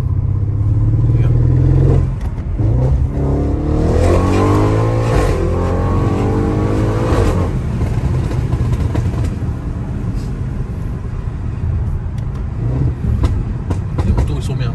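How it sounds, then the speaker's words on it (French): A tuned Audi RS7 with over 700 horsepower accelerates and revs hard nearby, a loud, steady roar building across the clip, with a voice speaking near the start. "Oh, c'est une voiture."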